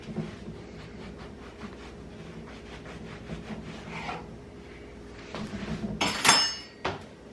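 Knife slicing a cucumber in half on a kitchen board, a few soft scraping strokes ending in sharper, brighter cuts near the end, close and fairly quiet.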